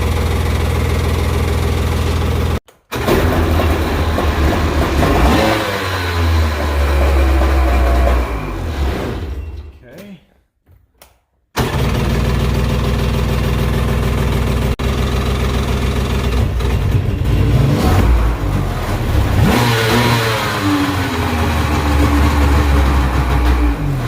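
Tractor engines, including a John Deere 4020, crank and catch, then run with a loud, steady low rumble; a brief cutout midway before the running resumes.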